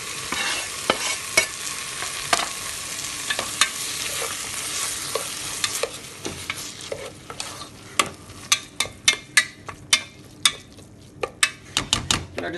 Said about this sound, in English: Let it saute for a while.